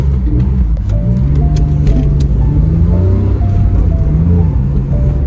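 Porsche accelerating in regular driving mode, a loud continuous engine drone with rising and shifting tones heard from inside the car, no talking.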